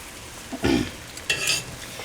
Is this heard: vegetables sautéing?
yes